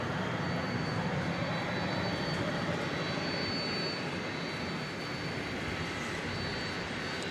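An MD-11 jet aircraft at an airport produces a steady broad roaring rush of engine noise, fairly distant and constant, easing slightly toward the end with no talk over it.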